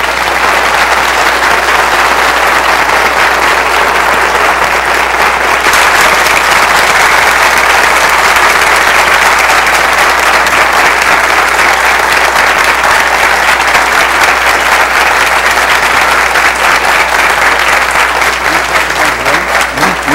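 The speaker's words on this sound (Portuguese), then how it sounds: "Muitos aplausos." Audience applause following a plenary mathematics lecture at a congress, steady dense clapping from a large crowd that fills the whole stretch at an even, loud level without letting up.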